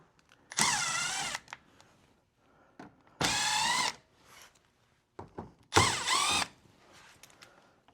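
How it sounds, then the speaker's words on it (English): A power drill whirs in three short bursts separated by pauses, close up, with faint clicks and handling noises between them, as it backs out Phillips screws on a 2012-2015 Chevrolet Camaro ZL1 front splitter extension. "I'm just going to take them out with a drill."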